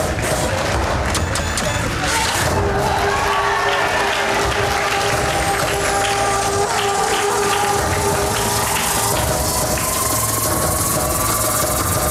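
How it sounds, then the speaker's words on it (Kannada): An audience at a Mandiram Day event breaks into loud, sustained applause that fills the whole stretch, many hands clapping densely and evenly, with a low hum running beneath. "ಎಲ್ಲರೂ ಚಪ್ಪಾಳೆ ಮೂಲಕ ಪ್ರೋತ್ಸಾಹಿಸಬೇಕೆಂದು ಕೋರುತ್ತೇನೆ"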